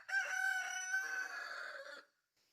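A rooster gives one long, loud crow that runs about two seconds and then cuts to near silence, heard on a small farm property, with no talking over it.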